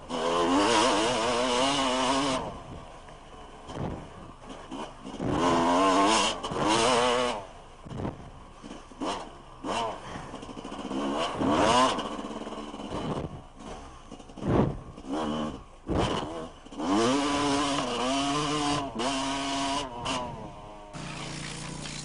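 Enduro motorcycles race one after another along a fast special stage, their engines revving loudly as they pass close by and fade, with rising and falling pitch and a few short lulls between bikes.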